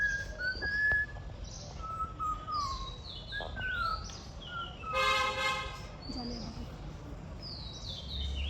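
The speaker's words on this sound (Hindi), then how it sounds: "कोयल कोयल" In a bamboo grove in Periyar Tiger Reserve, Kerala, a koel calls with rising whistled notes amid other birdsong, against a steady outdoor background, with a brief harsh buzzing burst midway.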